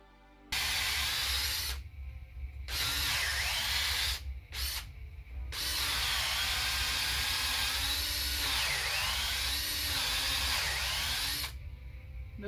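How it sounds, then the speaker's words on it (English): Power drill boring holes into a log for shiitake mushroom growing, a loud continuous whine that runs in several bursts with short pauses between them, alone without talk. "So let's drill a few of these holes, not much, just slightly"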